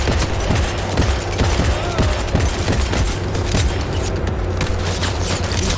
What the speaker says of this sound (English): He's on fire and still shooting at me.